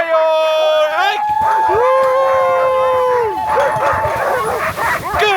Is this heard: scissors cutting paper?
no